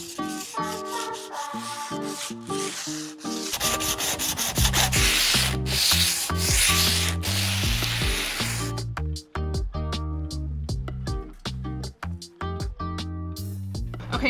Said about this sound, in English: I'm going to break off the edges just by hand with this diamond grit sanding block